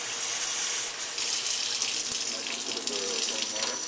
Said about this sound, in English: Get some warm water.